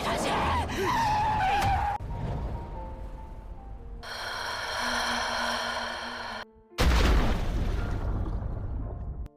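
A car moving fast through pouring rain skids on the road, with a sharp tire screech and rushing spray, then a sustained tonal hum, a brief silence and a loud, harsh burst of noise at the end.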